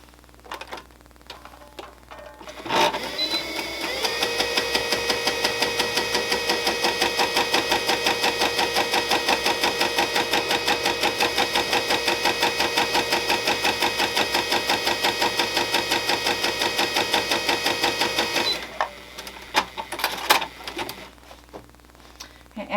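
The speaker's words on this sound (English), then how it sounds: "I'm just going to start sewing them together" A sewing machine runs a straight stitch through embroidery stabilizer pieces with basic white thread, a steady, rapid mechanical ticking that holds for about fifteen seconds, with handling noises at the start and end.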